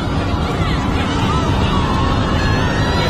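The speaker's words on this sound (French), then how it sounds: "Je n'entends rien d'autre que le vent." Wind blowing near a sea island, a loud, steady rushing gust close to the microphone throughout with no voices.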